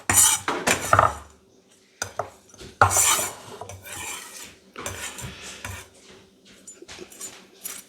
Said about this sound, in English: you're not supposed to use your knife to scrape the board and pick up stuff